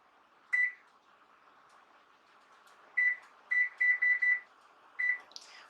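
An oven timer in a home kitchen, set while baking homemade lasagna, gives seven short, clear electronic beeps: one alone, then a quick cluster of five and a final beep, over a quiet low hum.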